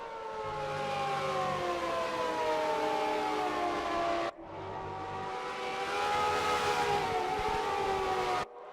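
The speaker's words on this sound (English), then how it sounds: "the sound out of those Williams is just so nice. I think that was the Renault V10" A Williams Formula 1 car's Renault V10 engine in a racing video game screams at high revs with a bright, howling whine. The pitch sweeps as it changes gear, and two sharp cuts mark the shifts.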